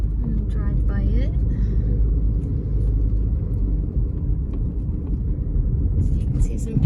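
A car rolls through a small Central American town, its engine and tire rumble steady and close, with a few brief higher tones of nearby traffic or voices near the start.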